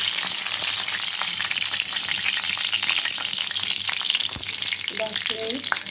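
Meat with a bay leaf fries in hot oil, giving a loud, dense, unbroken sizzle with scattered crackles and a brief knock near the end; no talking.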